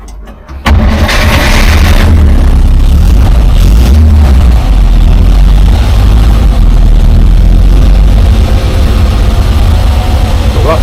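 A car engine under the bonnet, just fitted with a new carburettor float and with an oil-pressure fault, cranks and fires after a short quiet moment, then settles into a loud, steady, rough-edged idle that runs to the end.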